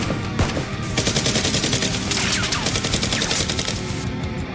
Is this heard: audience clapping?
no